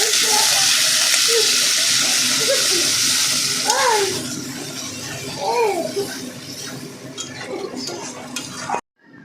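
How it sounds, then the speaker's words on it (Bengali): Kuche fish (eel), washed and coated with salt and turmeric, frying in a pan: a continuous hiss and sizzle with scraping of a spatula and clinks of utensils, the sizzle easing toward the end. "মাছটাকে ভালো করে ধুয়ে নুন হলুদ মাখিয়ে ভেজে নেওয়া হচ্ছে"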